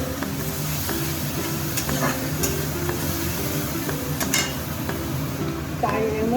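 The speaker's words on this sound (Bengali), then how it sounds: "তাই একটু চিনি দিয়ে মশলাটা একটু কষাবো" Spice paste for Bengali doi ilish sautés in a pan with water and sugar, with a soft sizzle under rhythmic spoon scraping and clinks against the pot, close and continuous.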